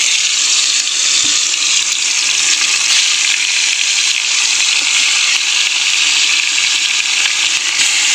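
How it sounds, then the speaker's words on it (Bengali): Pieces of fish rubbed with salt and turmeric fry in hot oil in a pan, giving a loud, steady, close hiss of sizzling without breaks or talk. "আমি এবার এক এক করে মাছগুলো ভেজে নেব।"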